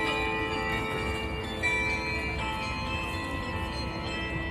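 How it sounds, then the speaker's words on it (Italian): Church bells ringing at St. Mary's Basilica in Poland, a sustained wash of overlapping metallic tones that hums on steadily at moderate distance over a bed of outdoor noise. "E sono partite ste campane favolose."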